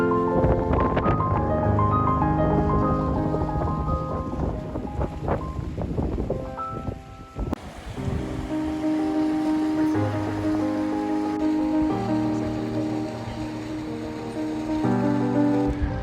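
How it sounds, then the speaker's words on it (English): A steady, heavy roar of rushing water at the top of Vernal Fall in Yosemite fills the whole stretch, loud and constant, with wind buffeting the microphone. "This is the top of the waterfall."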